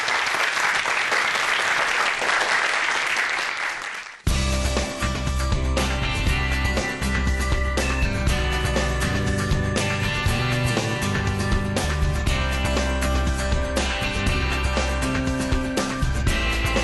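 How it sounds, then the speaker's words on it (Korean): Loud, sustained applause from a large audience at a science lecture on flexible technology, dense clapping running steadily throughout after a brief burst of music-like sound at the start. "큰 박수 부탁드릴게요."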